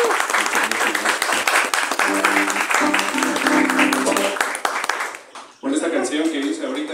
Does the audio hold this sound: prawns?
no